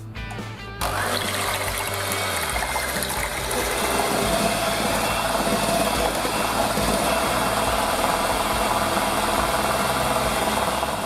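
An ice cream base being whisked, heard as a loud continuous mechanical whirring and churning that starts abruptly after a brief quieter moment and then runs steady and close.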